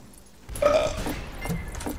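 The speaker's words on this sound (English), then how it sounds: "I burped. My character did at least." A character in the western shooter game Fistful of Frags lets out a loud, drawn-out burp that starts abruptly after a quiet opening and rumbles on with gurgling pulses to the end.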